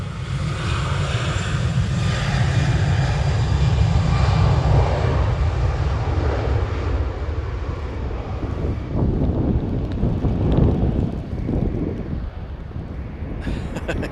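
At Manchester Airport a departing airliner's engines roar loud and steady, then fade slowly as the plane climbs away. Wind buffets the microphone throughout.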